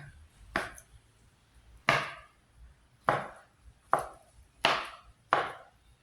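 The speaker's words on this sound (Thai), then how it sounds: "มาหั่นหมูยอค่ะ" A knife chops through Thai pork sausage (moo yor) on a cutting board in six sharp, evenly spaced strokes, close and distinct, with quiet between each cut and no talking.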